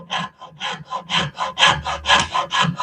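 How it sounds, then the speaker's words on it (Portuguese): A hand rasp files a recess into wood for an invisible shelf bracket, with about eleven rhythmic rough scraping strokes close up, each a gritty rasp in an even back-and-forth pace. "faço um rebaixo, vou passando devagarzinho a grosa"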